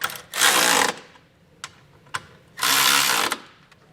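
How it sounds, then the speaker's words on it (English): A socket ratchet tightens trailer hitch bolts on a 2023 Kia Telluride in two loud, buzzy bursts of rapid clicking. Sharp metallic taps fall between the bursts, all close and with no one talking. "So now we'll go ahead and tighten the bottom ones down. We're going to be using a 17mm socket to do that."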